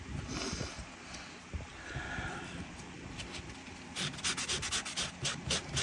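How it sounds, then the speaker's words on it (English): Board book pages, edges sanded and trimmed by hand, give a steady gritty rubbing that turns into quick back-and-forth scrubbing strokes near the end, close and fairly loud. "you just go around the edges and trim what you need to, sand what you need to, make sure the edges are all nice and even"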